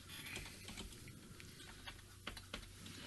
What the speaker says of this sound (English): I'm typing in The Pledge right now.